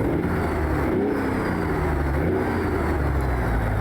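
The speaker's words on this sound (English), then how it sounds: "It does have a really good engine sound on its own." An Ironwerx IW900 truck engine runs and revs in American Truck Simulator, a steady loud low rumble with a rising tone and no talk over it.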